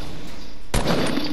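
Gunshots in the video game Fortnite: after a short stretch of quiet background, a loud burst of rapid fire erupts and keeps rattling to the end, close and harsh.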